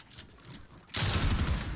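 Gunfire erupts in a Fortnite match, a loud dense burst of rapid shots starting abruptly partway in and continuing steadily after a quieter stretch.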